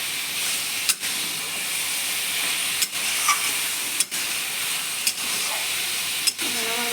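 Shredded cabbage frying in a pan on the stove, a continuous loud sizzle and hiss with a spatula scraping and stirring through it every second or so.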